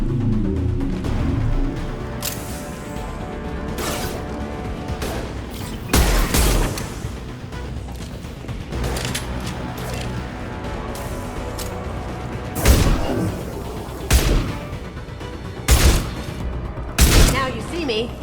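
Mass Effect 2 firefight with scattered sharp gunshots and booming impacts landing irregularly over a low rumbling backdrop, loud and near, with character voices shouting between shots.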